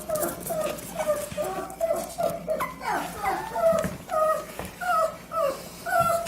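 A new puppy whimpers in repeated high, thin whines and short yips, close by, mixed with faint rustling and a few brief, soft voice sounds.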